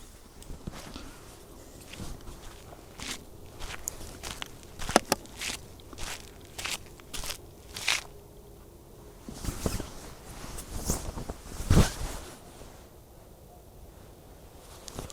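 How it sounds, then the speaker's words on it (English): Footsteps pass close by among trees near a grave site, as a quiet, irregular series of crunching steps spread across the whole stretch, with no talk. "I distinctly heard footsteps."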